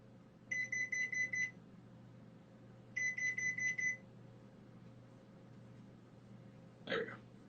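A kitchen timer set for baking chocolate chip cookies gives two quick bursts of rapid high beeps, each lasting about a second, with a short break between them, followed by a brief clunk.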